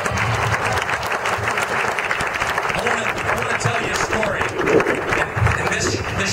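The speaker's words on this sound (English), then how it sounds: "Give a round of applause for that one." Applause at a Tea Party political rally in Lee County, Florida, a loud, sustained wash of crowd clapping with scattered cheers, lasting the whole stretch without a break.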